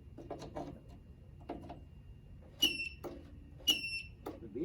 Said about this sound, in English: the annoying beeper works